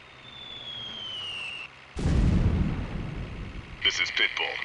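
Artillery fire for effect in the video game Delta Force Land Warrior, with a sudden heavy boom and rumbling blast after a quiet stretch, followed by further impacts and radio-style chatter.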